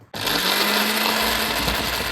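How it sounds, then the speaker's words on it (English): An electric blender whirs up suddenly and runs loud and steady while blending chopped onion for a doner kebab mixture, its motor drone and grinding filling the short stretch with no talking. "peel up the onion to put in the blender and blend that up"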